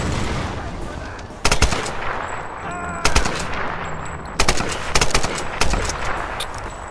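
Rapid bursts of enemy gunfire in the Tomb Raider (2013) video game, several loud automatic volleys spaced a second or so apart over a continuous background, with a voice reacting briefly.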